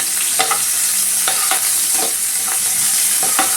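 A spinach bharta mixture fries loudly in a pan, its steady bright sizzle punctuated every half second or so by the scrape and knock of a spoon stirring through it.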